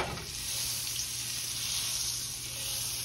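Butter sizzling in a hot pan while cooking shrimp scampi, a steady, bright hiss that stays even and fairly close throughout, with no talking.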